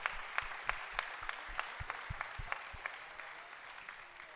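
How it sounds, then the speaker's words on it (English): An audience at American Legion Boys' State New York applauds the Legion and Boys State staff, with a soft, distant patter of clapping that gradually thins out. "let's give a huge round of applause for them"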